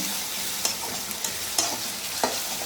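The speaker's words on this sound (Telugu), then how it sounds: "అల్లం వెల్లుల్లి పేస్ట్ అయితే వేసుకుంటున్నాను నేను" Ginger garlic paste fries and sizzles in a hot pan while cooking a goat leg paya curry: a steady close hiss with a few sharp scraping clicks from stirring.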